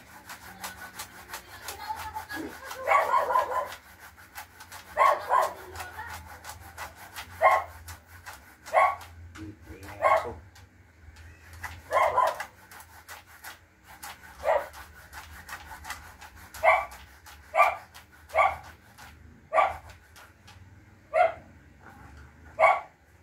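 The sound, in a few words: dog barking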